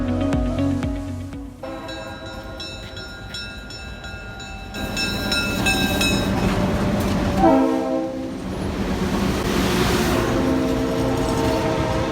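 The Cuyahoga Valley Scenic Railroad train rumbles along steadily, its horn sounding loud and sustained over the rolling noise of the cars.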